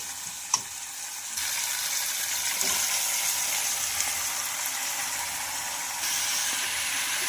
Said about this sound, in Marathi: पत्ता गोबी जे अतिशय अशी छान अशी फ्राय करून घ्यायची आहे आपल्याला